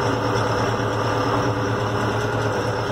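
A New Holland T5.80 tractor engine runs steadily in second gear of range 3, a loud continuous close-up rumble with an even mechanical drone throughout.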